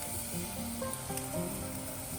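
Battered Vidalia onion rings sizzle in hot frying oil, a steady close crackling hiss with faint tonal hum underneath, continuous and even throughout, with no talking.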